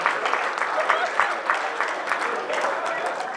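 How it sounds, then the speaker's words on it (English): An audience at a mentalist's live show breaks into applause, a steady wash of many clapping hands, moderately loud and sustained throughout, with a voice faintly beneath it. "Give her a big round of applause for that."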